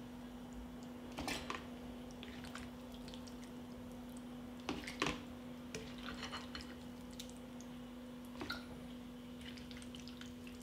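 Chopped vegetable salad dressed with olive oil, vinegar and salt being spooned and poured into glass jars in a kitchen, giving a few soft wet squishes and drips at scattered moments over a steady low hum.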